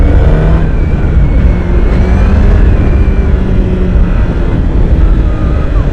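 A 2016 Honda CBR1000RR SP motorcycle engine roars steadily under hard acceleration, a loud, dense, close-up drone that holds throughout with no speech.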